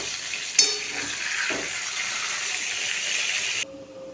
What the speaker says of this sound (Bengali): এক পিঠটা ভাজা হয়ে গেছে আর এক পিঠটা উল্টিয়ে দেবো।